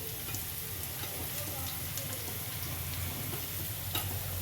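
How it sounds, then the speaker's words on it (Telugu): Mustard seeds and dried red chillies crackle in hot oil for a dal tempering, a dense continuous sizzle with scattered small pops, close and moderately loud, no talk. "ఆవాలు చిటపట మనాలి"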